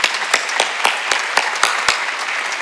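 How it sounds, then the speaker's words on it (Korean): A church congregation applauds during an Easter Sunday service, a steady wash of many hands clapping with a few louder, sharper claps standing out at an uneven rhythm throughout. "우리 칠레에서 오시면 박수 좀 쳐줘요."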